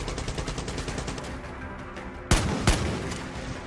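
Two sharp, loud gunshots in the Far Cry 6 shooter game, fired about half a second apart, cracking out over a steady bed of game ambience.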